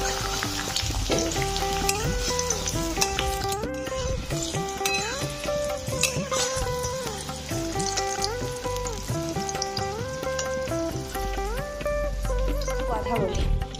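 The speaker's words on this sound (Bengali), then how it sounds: "তো এই যে কাঁচকলা ভাজা চলছে" Green banana slices fry in a pan with a continuous crackling sizzle, like light rain, while a voice talks and tonal background sound runs over it.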